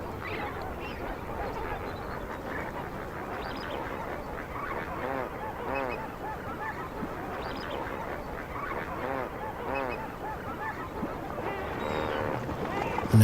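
A breeding colony of lesser flamingos in Africa keeps up a dense, continuous chorus of honking, goose-like calls. The calling is fairly far off and steady throughout, with a voice faintly audible beneath it.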